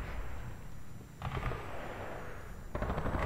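Electrical bullets fired in the co-op shooter E.Y.E. come as two short bursts of rapid crackling shots over a constant background hum, with no voices.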